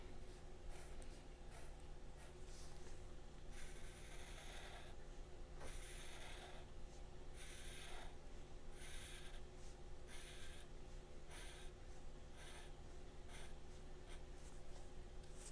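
A Sharpie marker scratches over drawn lines on paper in quiet, repeated strokes, faint and close with no voices.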